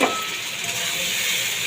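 Ground spice paste frying with browned onions in a pan on lowered gas heat for a potato and pabda fish curry, giving a steady, close, continuous sizzle and hiss with no talking.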